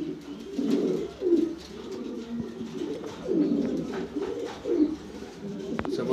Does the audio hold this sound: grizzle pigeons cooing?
yes